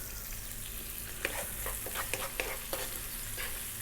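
Onion frying in hot oil with a little salt while being stirred, a steady sizzle broken by several sharp scraping knocks of a utensil against the pan.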